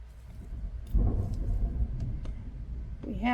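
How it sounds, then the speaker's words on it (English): Low, rolling thunder rumbles in the background under steady ambient noise, swelling for a moment before settling, with a voice starting at the very end. "We have got a thunderstorm going through."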